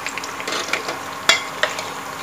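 Onions fry in a pot with ginger and garlic paste for a Lucknow-style khichda, making a brief, close sizzle broken by a couple of sharp stirring clicks.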